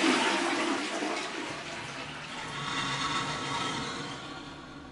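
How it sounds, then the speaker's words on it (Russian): Water gushes and drains away through a bathroom sewer pipe fitted with a check valve and a large corrugated hose, a loud rushing swirl that slowly fades and steadies into a gurgling flow. "Ну-ка, как вода уходит."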